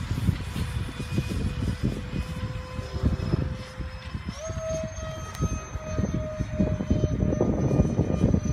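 Model A-10 aircraft coming in to land, a steady whining jet-like drone held throughout with a shift in pitch midway, close and fairly loud against outdoor background noise.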